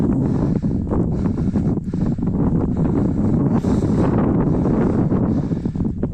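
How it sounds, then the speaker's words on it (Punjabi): Cold wind blows across snow-laden high mountain peaks, a steady, loud broadband roar buffeting the microphone throughout, with gusty fluctuations and no voices. "ਠੰਡੀ ਠੰਡੀ ਹਵਾ ਚੱਲ ਰਹੀ ਆ"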